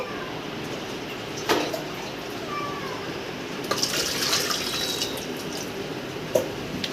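Water trickles and splashes steadily into a cooker, with a few louder drips and clinks, fairly close and without talk.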